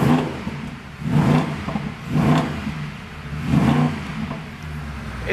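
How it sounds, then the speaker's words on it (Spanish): A Mercedes car engine revs repeatedly, rising and falling in about four swells with a throaty mid-range roar and slight mechanical clatter, close by and without talking. "Este es el sonido de un Mercedes."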